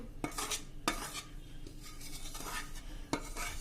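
Flour and jaggery for fenugreek laddus are mixed together in a metal vessel, producing several close, sharp clinks and scrapes spaced about a second apart with softer stirring between them.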